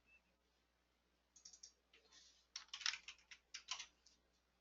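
Short bursts of clicky keystrokes on a computer keyboard, close and fairly quiet, starting after a silent pause and quickening into a few rapid flurries, with no voices.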